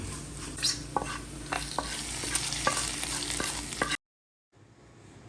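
A spoon stirs a prawn and grated coconut mixture with chilli in a pan, with steady scraping strokes and a soft sizzle. The sound continues for about four seconds, then cuts to near silence.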